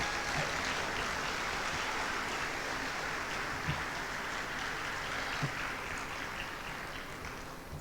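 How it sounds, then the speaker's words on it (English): A convention hall audience at a state firemen's association gathering applauds honored past officers, a steady, dense wash of clapping that holds evenly for several seconds with no pause. "Let's give these gentlemen a round of applause."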